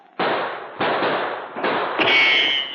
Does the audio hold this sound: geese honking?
no